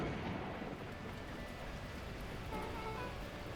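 Torrential rain with thunder in the video game Beacon Pines: a dense, steady roar of downpour with low rumbling, heard alone without talk for a few seconds.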